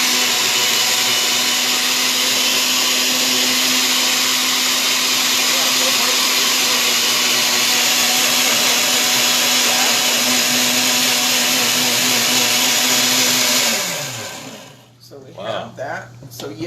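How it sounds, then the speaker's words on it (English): An Oster blender whirs steadily at high speed for about fourteen seconds while blending melon for gazpacho, a loud constant motor drone that winds down and stops, followed by faint clatter. "this is a really, really good blender. Oster, you guys."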